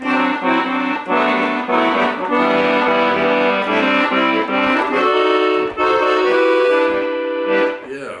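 An accordion plays a sustained melody over held chords, steady and fairly loud, with reedy harmonics and no speech.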